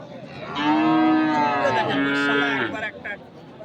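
A bull or cow at Ambari cattle market in Dinajpur, Bangladesh, where Sahiwal bulls are sold, gives one loud, close, drawn-out moo that breaks briefly in the middle, followed by faint market noise.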